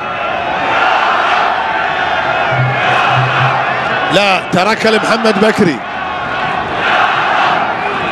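An Egyptian football crowd in the stands chants and cheers through a youth Arab Cup semi-final against Senegal, a loud continuous roar with a burst of shrill whistling near the middle, while a commentator talks over it.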